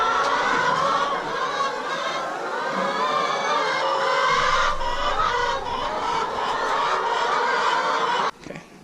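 Chickens in a farm chicken pen cluck continuously and close by, many overlapping calls forming a busy, chattering flock that fades abruptly near the end.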